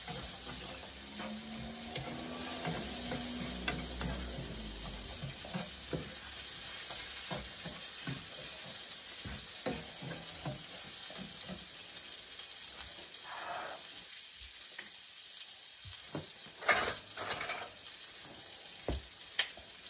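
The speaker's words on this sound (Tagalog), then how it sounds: "Lutuin na natin yung sibuyas" Sliced onions frying in a pan give a continuous close hiss and sizzle, broken now and then by stirring clicks and scrapes, with no talking.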